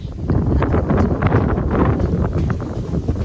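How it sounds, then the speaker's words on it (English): Outdoor wind buffeting a microphone, a continuous loud low rumble with gusty surges across the whole short stretch, no voice heard. "Sorry if you can't hear me, the wind's just picked up."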